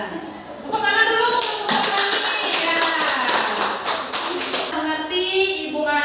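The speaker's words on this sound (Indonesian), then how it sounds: "Tepuk tangan dulu." A school class clapping hands together at the end of a lesson, a sustained burst of many close, loud claps lasting a few seconds, with a brief voice at the start.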